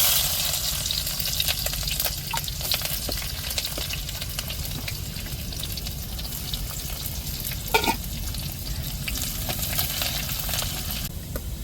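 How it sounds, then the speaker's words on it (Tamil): Chopped onions and popped mustard seeds fry in hot oil for a black anchovy fish aviyal, giving a steady close sizzle with occasional stirring scrapes and clinks. "நம்ம நறுக்கி வச்ச வெங்காயத்தை சேர்த்துக்கிடுவோம்."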